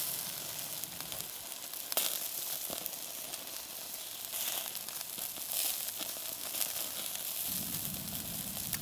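Two or three small sausages sizzle steadily in a pan over a campfire meal in the woods, a constant close hiss with occasional crackles and brief clinks of handling, with no talk.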